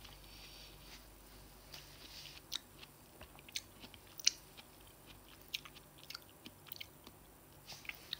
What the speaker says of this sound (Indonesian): Memakan melon dengan barbar.